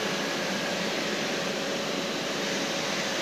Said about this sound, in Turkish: Buraları da bak, böyle süpürge açacağız.